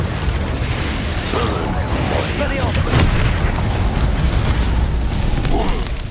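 Fiery Confringo spell blasts in the video game Hogwarts Legacy, loud booming bursts and crackling impacts over a dense, continuous roar of combat noise, with a voice shouting amid the action.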